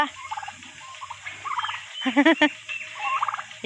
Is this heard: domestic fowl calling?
yes